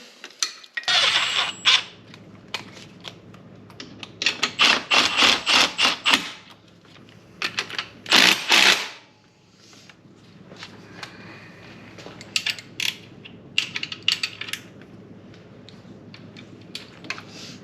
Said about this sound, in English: So now just need to torque down the bolt.